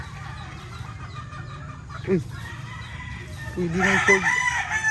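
Fighting stags, chickens kept in pens, crow and cluck: a short crow midway and a louder crowing burst near the end over a low hum, while someone talks nearby.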